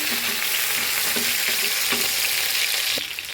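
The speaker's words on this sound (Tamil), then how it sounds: "இப்போ இந்த சைடு நல்லா கோவக்காயை வதக்கிப்போம்" Steady loud sizzling of ivy gourd being sautéed in a pan, with occasional scraping stirs, continuous and close, no voices.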